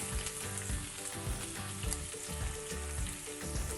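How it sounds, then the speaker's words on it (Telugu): Finely chopped onions fry in a pan of hot oil with cumin seeds, giving a steady, close sizzle with crackling and faint stirring scrapes, with no voices. "ఇప్పుడు సన్నగా తరిగిన ఉల్లిపాయ ముక్కలు వేసి వేయించేద్దాము."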